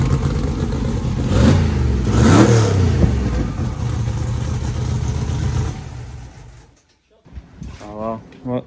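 A drag car's engine, just refitted after gearbox work, runs loud and rough with rising and falling revs for several seconds, then cuts out abruptly to near silence before a brief faint sputter and voice at the end.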